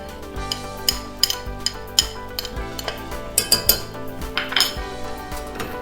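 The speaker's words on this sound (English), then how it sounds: "I'm going to slowly add the clams, gently, adding some of their juice" Clams and their juice added to a pot of warm broth for spring clam chowder, with close clinks and clatters of shells and utensils against the pot, irregular knocks over a soft simmering background.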